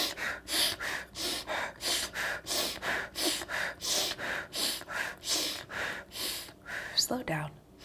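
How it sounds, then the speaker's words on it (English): Rhythmic breathing, in through the nose and out through the mouth, comes as a regular series of about fourteen quick, close, airy breaths with a short gasp and a small shuffle at the end. "We're breathing inwards through our nose, out through our mouth."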